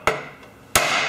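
Two sharp, loud metallic hammer blows on a riding mower flywheel land about two-thirds of a second apart, each ringing out briefly before fading.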